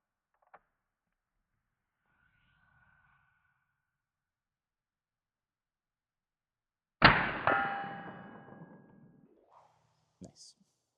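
A Daisy VL caseless rifle fires once with a sharp, loud crack that rings and decays over a couple of seconds, followed by faint mechanical clicks; the shot stands alone with no talk.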